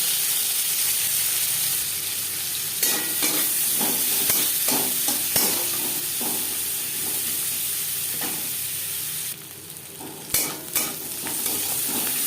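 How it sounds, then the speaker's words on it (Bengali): Chopped onion frying in oil in a wok, a steady close sizzle with intermittent scraping and stirring clatter, no voices. "দু তিন মিনিট পেঁয়াজ ভেজে নেওয়ার পর"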